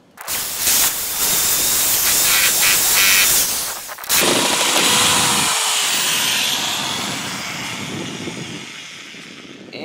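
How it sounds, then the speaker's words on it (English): A loud power drill whirs and grinds continuously into a vending machine lock, briefly stopping then restarting with a harsh, buzzing, high-pitched bite into metal. "So I'm going to take a drill, and we're going to try drilling it out."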